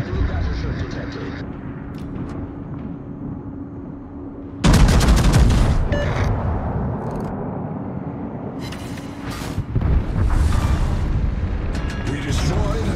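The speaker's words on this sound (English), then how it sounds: "Concentrate fire on that enemy warship." Big naval guns roar in World of Warships, heavy booming salvos with long rumbling tails, a loud broadside near the middle and further blasts later, over steady engine and sea rumble with a voice speaking at times.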